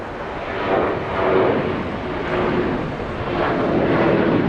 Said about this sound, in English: And the French 777 landing